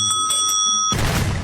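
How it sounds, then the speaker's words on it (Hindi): Small hand bell rung by a mouse in a cartoon, a bright ringing with steady tones for about a second, then cut off abruptly by a loud, broad burst of noise. "साला ये चूहा घंटी बजा बजा कर बिल्ले का सिस्टम हिला देता है"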